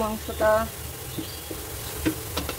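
Frozen chunks of mutton go into a hot pan and fry with a steady hissing sizzle and scattered small clicks. Someone talks over the start.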